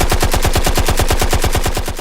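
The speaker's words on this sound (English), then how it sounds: "Gunshots!" Rapid gunfire crackles in a dense, unbroken burst, shot after shot in a fast even rhythm, loud and close with nothing else audible.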